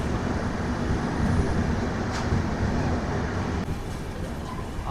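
A passenger special train between Nanded and Tirupati runs onto a loop line near a junction, heard from on board as a loud steady rumble and rattle of the carriages with a brief squeal.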